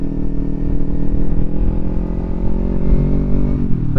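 A Kawasaki Ninja 300 motorcycle engine drones steadily at close range, loud and sustained. Its pitch shifts slightly near the end as the rider changes speed.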